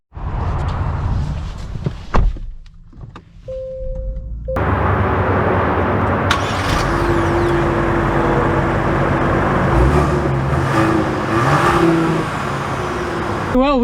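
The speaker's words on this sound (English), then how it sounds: "we are setting off in the GV80 back to back with the X5" A 2023 Genesis GV80 luxury SUV setting off, engine and road noise building into a steady cabin drone after a few seconds of clicks and quiet, with brief tonal chimes along the way.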